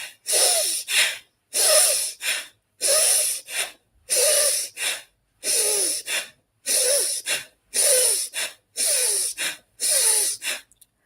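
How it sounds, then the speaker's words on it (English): Bhastrika breathing exercise: about ten rapid, forceful nasal breaths in and out, evenly spaced bursts of loud airy rushing with short silences between, close and alone. "you're going to do a breathing in through your nose"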